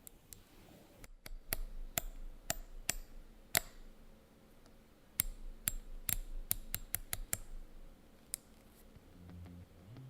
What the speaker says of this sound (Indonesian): dia tuh ada semacam mekanisme klik metal gitu loh yang bener-bener suaranya gurih banget.